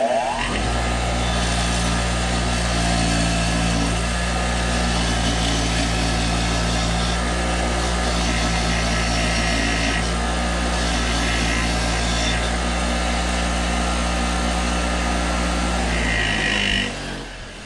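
A bench wire wheel spins steadily, loud and close, as threads on Jeep Cherokee water pump bolts are cleaned, a constant whirring drone that runs almost the full length before winding down at the end.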